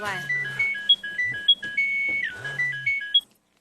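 A mobile phone rings with a repeating electronic melody of bright beeping tones, loud and near, looping steadily for about three seconds with brief low blips between phrases before cutting off.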